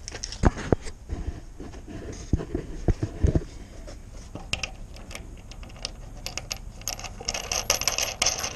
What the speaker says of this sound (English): put some nuts on under here, some washers and nuts